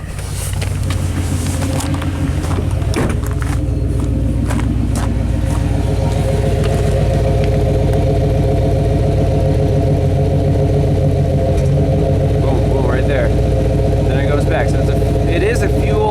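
A 1991 Chevy K1500 pickup idles with a fuel problem, giving a steady low rumble close by with slight roughness, while someone talks over it throughout.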